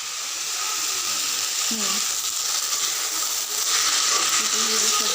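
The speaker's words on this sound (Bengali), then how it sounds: "ভেজে নেব" Food frying in a pan, a steady bright sizzle that swells a little partway through, with occasional soft stirring scrapes underneath.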